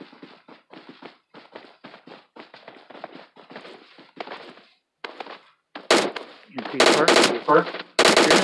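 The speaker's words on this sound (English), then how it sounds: "There's someone shooting." Gunfire in the battle royale game PUBG Mobile breaks out as sharp, loud rapid bursts in the latter part, after stretches of a voice talking over quieter game sounds.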